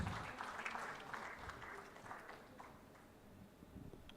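Applause from an audience greeting a panel at a stage presentation, sustained but faint and distant, tapering slightly toward the end.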